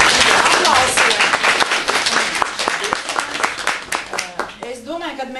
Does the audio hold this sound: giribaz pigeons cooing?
no